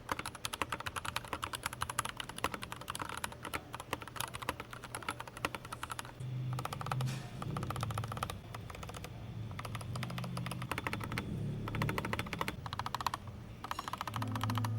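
Stock Royal Kludge RK84 75% mechanical keyboard being typed on steadily, a dense run of close, fairly loud keystrokes and clacks continuing without pause throughout, no voices.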